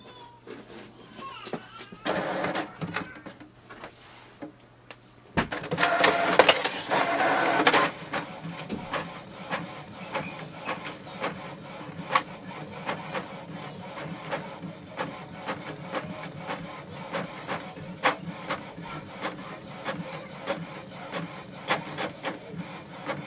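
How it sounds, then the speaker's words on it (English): A Canon TR7020 inkjet printer runs with mechanical whirring and a steady buzz, a louder burst of feeding noise early, then continuous softer printing rattle to the end. "click on the print button and wait for the printer to print."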